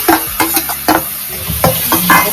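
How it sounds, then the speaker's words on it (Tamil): Mustard seeds, dried red chilies and curry leaves crackling in hot oil in a home kitchen along with a ground amla (gooseberry) paste, with loud close sizzling and repeated stirring scrapes and pops across the clip. "கடுகு போட்டு காஞ்ச மிளகா கொஞ்சம் கருவேப்பிலை போட்டு பொரிட்டோன்னு"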